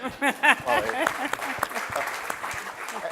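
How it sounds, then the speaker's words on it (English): An audience at a civic address by the Los Angeles mayor applauds, a crackling wash of clapping that rises as a voice finishes speaking and continues steadily to the end. "That deserves applause, by the way."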